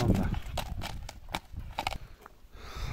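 A Trakehner horse walks with hooves on firm ground, giving a steady clip-clop of distinct, close hoofbeats over low background rumble.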